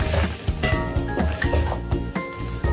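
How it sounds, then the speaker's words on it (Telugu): Chili powder and turmeric fry with greens and beans in a pan, a busy sizzle broken by repeated scraping stir strokes and light clinks of a spoon against the metal. "ఇప్పుడు కారం వేసి వేయించుకున్నాం కదా"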